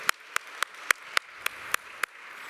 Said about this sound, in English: a big round of applause for the AV team for sorting out the sound on the fly